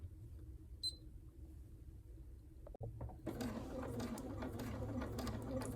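A sewing machine stitches a seam on a fabric doll, starting after a brief pause and then running steadily as a dense, continuous mechanical whir up close.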